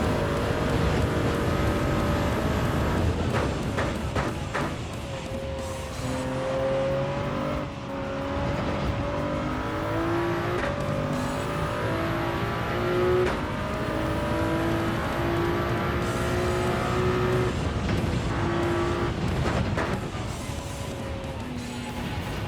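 A race car engine accelerating hard through a lap, a steady loud whine with rising pitch sweeps as the revs climb through the gears, continuous and close with no talk over it.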